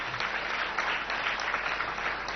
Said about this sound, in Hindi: जोरदार ताली से स्वागत करना।